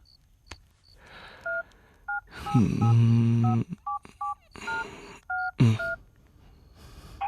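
Telephone keypad tones beep in a quick irregular sequence of short dialing bleeps, with a longer dial tone in the middle, close and clear.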